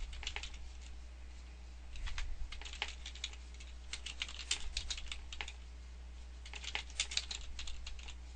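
Steady clicking of a computer keyboard as a headline is typed, quick irregular keystrokes in bursts with short pauses, close and fairly quiet over a low constant hum.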